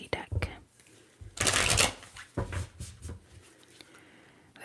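Moonology tarot cards get a quick, papery riffle in one brisk burst, surrounded by soft whispered talk and a few light taps and rustles.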